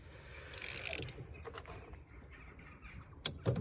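A ratchet undoing a T30 bolt on a VW Golf Mk5 GT TDI PD during a service, giving a burst of fast clicking and then scattered metallic clicks and knocks, close up with no talk.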